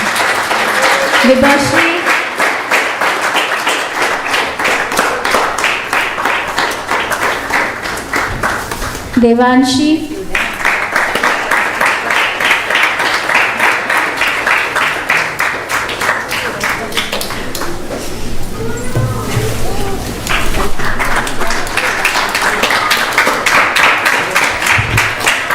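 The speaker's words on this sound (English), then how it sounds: "Please applaud them for all their hard work." An audience claps steadily for the children at a Sunday Vedic School program at ISKCON Phoenix. The applause runs dense and sustained throughout, while a voice calls out names over it.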